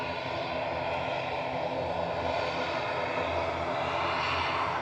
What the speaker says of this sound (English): So that's Shuttle 2 Juliet just rolling out from Heathrow with flight 1386 GDBCH. It's a 19-year-old A319.